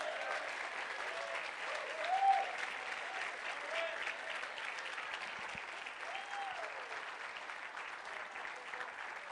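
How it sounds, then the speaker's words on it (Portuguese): A church congregation applauds steadily throughout, a dense wash of clapping from many hands in a reverberant hall, with faint voices mixed in and a brief swell near the start. "Vamos dar uma salva de palmas."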